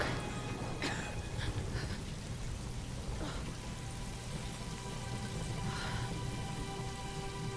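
Storm rain in the Tomb Raider video game pours as a dense, constant hiss of drops striking surfaces, steady and enveloping, with no one speaking.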